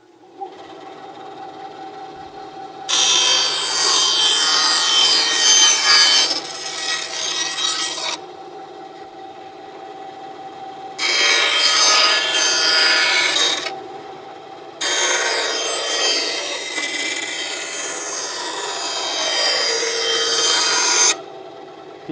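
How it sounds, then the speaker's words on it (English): A Bauer 9-inch tabletop bandsaw, used outdoors, cuts through 1/2-inch plywood in three loud, sustained rasping bursts over a steady motor hum that carries on between the cuts. "Cuts just like my big bandsaw."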